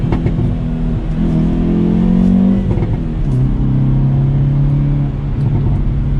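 A 2022 Hyundai Veloster N engine revs up hard and loud, its deep growl rising in pitch and holding steady, close by with no talking.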